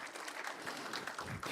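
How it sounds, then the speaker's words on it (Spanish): A church congregation claps in gratitude during a sermon, a soft, continuous patter of many hands heard from a distance, quiet and even for the whole stretch, without voices on top. "Dale un aplauso de gratitud al Señor."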